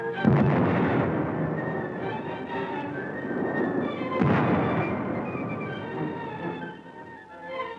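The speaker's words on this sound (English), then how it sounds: "They're entrenched in the city's post office and under repeated fire of Nazi-trained militiamen." Battlefield gunfire from a 1943 newsreel of the 1939 siege of the Danzig post office, a dense continuous roar of firing with heavy booming bursts near the start and middle, no voices.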